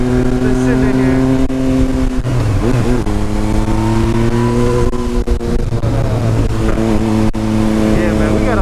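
A Yamaha MT-09 motorcycle engine on a cold start after sitting: a loud, close, steady idle that rises and falls with small revs throughout.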